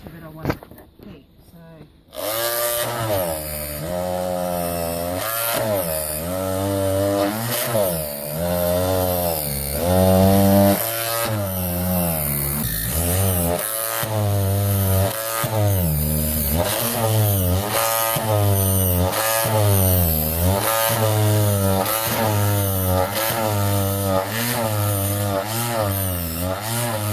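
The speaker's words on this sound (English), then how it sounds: "So I've had a go with the little mouse sander just to get into the areas that I wanted to get more of that red off" A small mouse sander works over red paint on an old barn door, whining loudly and steadily with a buzzing, wavering pitch as it is pressed and moved, running almost without pause after a brief quiet start.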